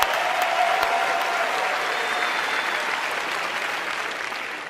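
Steady applause fills a large hall as the audience at a Samsung launch event for the Galaxy Watch Active and Galaxy Fit claps for a presenter. The sound stays dense and even, slowly tapering, with no voices over it.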